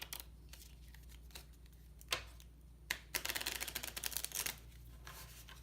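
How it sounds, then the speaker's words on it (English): One Deck Dungeon game cards, unsleeved, are shuffled up close at low volume, with a few scattered clicks and then a rapid run of crisp riffling snaps. "So we take everything and shuffle it all up."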